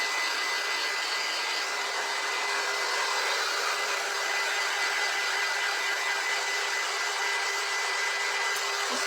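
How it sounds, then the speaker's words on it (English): A hair dryer blows steadily on a craft sign board, a loud constant whooshing hum with a high whine that runs unbroken throughout with no talking. "Just drying my board."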